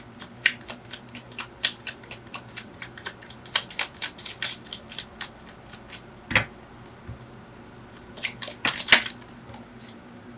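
Tarot cards are shuffled and drawn from a deck, producing rapid riffling flutters and crisp card snaps up close, with a louder flurry of shuffling near the end and no speech.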